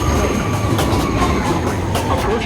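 A New York subway train arrives at night at 2 Av station, a loud, close rumble with rapid wheel clatter and faint squeals that continues throughout.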